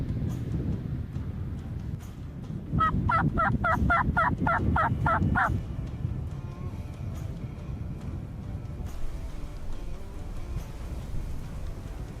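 A wild turkey tom in full strut gobbles once in a rapid, rattling burst of about nine pulses, heard at a distance over steady outdoor background noise.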